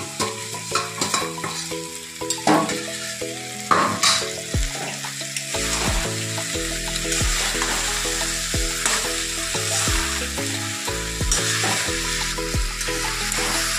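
Potatoes pre-fried with salt and turmeric and dal are stir-fried together in a pan for a Bengali sajne danta alu posto chorchori, with steady sizzling and repeated loud spatula scrapes and clanks, no voices.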